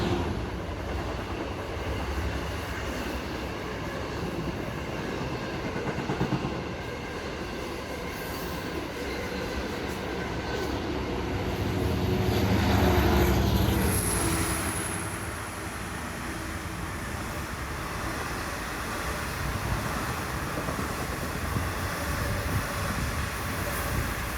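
A Long Island Rail Road Cannonball diesel train arrives with a steady low rumble of wheels and engine that builds to a louder peak at mid-passage, then settles back to a continuous rolling drone, with a brief high wheel squeal.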